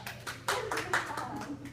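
Children in a classroom clap for themselves in a short, ragged burst of separate hand claps, fairly close and moderately loud, lasting under two seconds.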